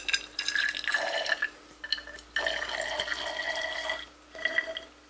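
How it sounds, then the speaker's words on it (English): Water is poured into test tubes holding barium carbonate and barium chloride, producing bright glassy trickling and filling sounds in several bursts with brief pauses between, close and clear. "Now let's see what happens if we add some water."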